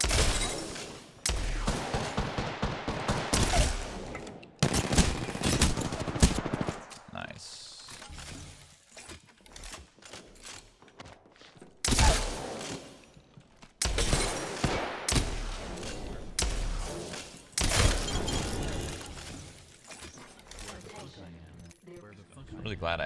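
Shotgun blasts in an Apex Legends firefight, sharp bursts scattered through the clip with clicks and mechanical reload noises in between, under a player's frequent excited talk.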